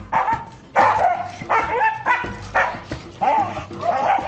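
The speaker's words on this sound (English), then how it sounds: "There's dogs back there." Several dogs bark and yip in a quick series of sharp, close barks, with whimpering mixed in.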